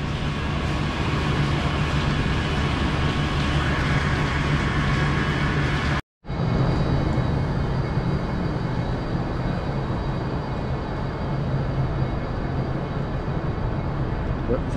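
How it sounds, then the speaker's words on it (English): Avanti West Coast Pendolino electric train at Edinburgh Waverley Station, a loud continuous rumble and hum of the train and station throughout, with a brief dropout partway, with people talking faintly underneath. "this is the Avanti West Coast Pendolino"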